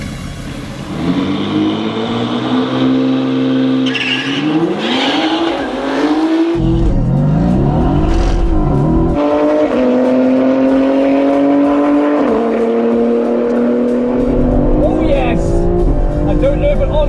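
A BMW X3M launches hard in a race, its engine climbing steadily through the revs with tire squeal, loud and close throughout, while people talk over it.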